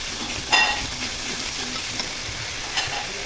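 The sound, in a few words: onion and ginger-garlic paste frying in hot oil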